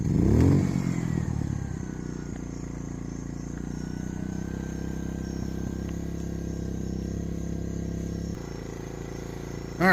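An ACEUP 4000W portable inverter generator starts with a rough clattering crank, then settles into a steady close engine drone at eco-mode idle that shifts slightly in pitch before a brief surge at the end.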